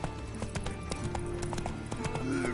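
Horse hooves clip-clop steadily in The Witcher 3 as the rider's horse moves along, a rhythmic stream of fairly close, moderate hoof strikes over a busy game background.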